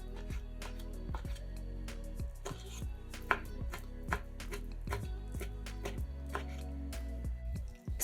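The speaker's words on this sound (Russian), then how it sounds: "Нарезаем его небольшими кубиками" A knife chops soaked, dried prunes into small cubes on a board in a home kitchen, a steady run of close, crisp thuds with small pauses between bursts.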